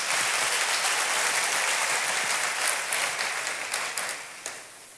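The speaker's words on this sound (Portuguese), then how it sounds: "Pode aplaudir o Senhor Jesus." A church congregation applauds during a sermon, a dense, bright wash of clapping that stays full for several seconds before gradually thinning into scattered claps.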